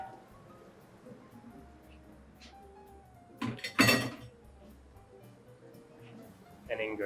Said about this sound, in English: So in go the potatoes.